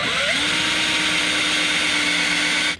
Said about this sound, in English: Go ahead and just drill right through here.